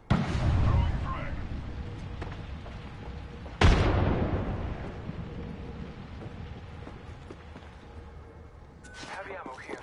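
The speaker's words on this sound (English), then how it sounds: "Throwing a frag." A frag grenade detonates in Apex Legends as a sharp, loud boom that rolls into a long rumbling decay, arriving partway through amid ongoing gunfight noise and an earlier burst.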